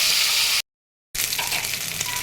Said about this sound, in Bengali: কড়াইয়ে তেল দিয়ে দিয়েছি তেল গরম হয়ে গেছে মাছের মাছটা ভাজার জন্য